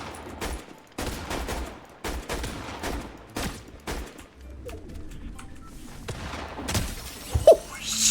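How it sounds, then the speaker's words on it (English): Twin shotguns fire in the video game Fortnite: a series of loud, sharp blasts at irregular intervals of about one second, followed by quieter scattered bangs and faint background game sounds. "Let's see how this one feels. These twin shotguns."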